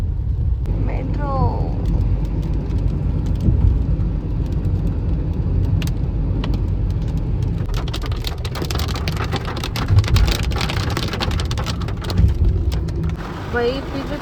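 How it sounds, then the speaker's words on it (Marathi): Heavy, sudden rain pours on a road busy with traffic, a constant loud hiss of downpour with passing vehicles and faint distant rumbles mixed in. "तिथे तर अचानक एवढं जोरात पाऊस सुरू झाला आहे"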